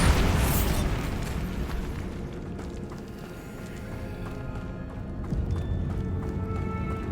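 A Bombarda spell explodes in Hogwarts Legacy, a loud burst right at the start that rolls into a booming, rumbling wash, with hoof-like clatter and game effects continuing after.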